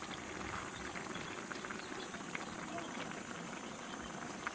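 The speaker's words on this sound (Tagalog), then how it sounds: "Malapit na guys yan kumukulo na." Vegetables in a covered pot bubble and simmer steadily at low volume, a soft continuous churning hiss with faint pops and no voices.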